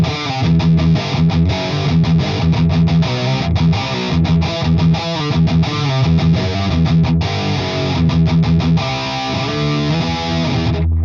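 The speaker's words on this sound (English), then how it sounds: "Distortion. We're talking distortion." Electric guitar run through a BOSS GT3 multi-effects unit's distortion, a loud, fuzzy, choppy chord riff with sharp stops, playing alone.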